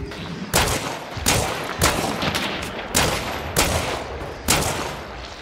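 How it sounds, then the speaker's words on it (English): Gunfire in a video game: about six loud, sharp shots in an uneven rhythm, roughly one each second, with a reverberant tail behind each shot. No one speaks. "Did I miss all my shots?"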